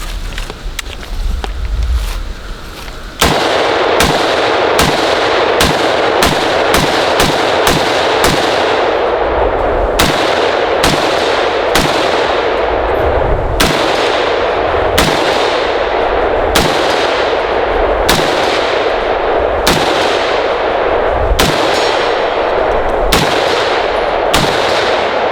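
Rapid, evenly spaced gunshots from a Sig Spear M7 battle rifle ring out one after another, loud and close, each sharp crack trailing a brief echo, after a few seconds of low wind noise.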